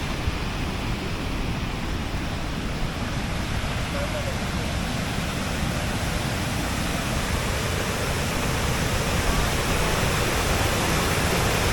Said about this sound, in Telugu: నీళ్ళు పడేటప్పుడు సౌండ్ మాత్రం సూపర్ ఉంది